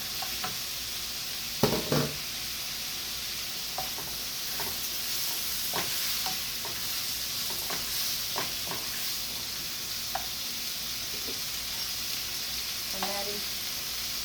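Red pepper and taco filling sautéing in a pan: a steady, even sizzle with scattered light clicks and pops, and a brief faint voice near the end.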